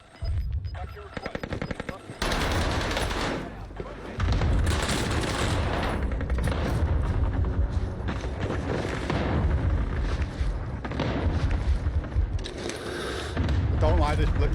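Gunfire in the video game Call of Duty Warzone, loud dense bursts of automatic shots and booms that keep up almost without a break, with a voice talking over the action.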